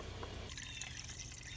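Blue motorcycle coolant pours into a Honda CBR650F, a faint steady trickle of liquid that shifts into a brighter, splashier stream partway through, close and alone.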